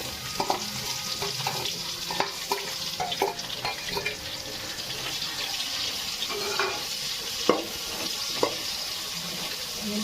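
Sliced onions frying in oil in a pan for prawn and egg biryani, a steady sizzle and crackle broken by scattered clicks and stirring knocks, close and with no talk.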